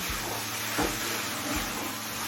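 Jaggery and coconut stirred in a pan over a high gas flame, giving a steady sizzling hiss with soft scraping strokes of the spoon roughly every second.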